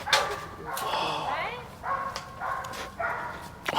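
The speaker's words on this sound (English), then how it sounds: "Hey, little dogs here." Little dogs bark and yip in quick, repeated high-pitched bursts, close by on a street in Da Nang, Vietnam, with people's voices mixed in around them.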